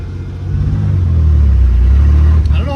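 Ford Ranger Baja build truck engine revving hard, a loud deep rumbling roar that swells and holds close by, then drops away at the end.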